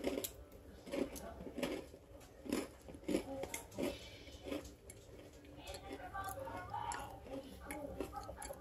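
Crunchy bites of a small chocolate-dipped biscotti, several crisp cracking crunches in a loose rhythm, close and fairly loud, followed by chewing, with a voice speaking around them.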